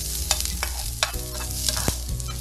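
Sliced onion fries loudly in hot oil in a pan, a steady close sizzle broken by repeated scraping and clacking strokes of a stirring utensil.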